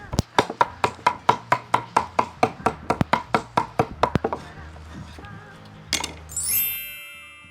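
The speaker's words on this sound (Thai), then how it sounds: "แล้วทีนี้ทุบกระเทียม" A kitchen knife pounds garlic on a board in a northern Thai home kitchen, about twenty quick, sharp knocks in a steady rhythm, close and clear. The pounding slows toward the end and gives way to a clink and a rising hiss.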